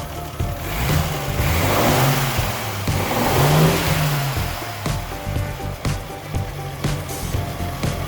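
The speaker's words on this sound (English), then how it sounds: "The engines in these cars actually work." A classic car's engine runs nearby with a rough mid-pitched rumble, swelling in a couple of revs before settling into a steady idle, with a broad noisy wash over it.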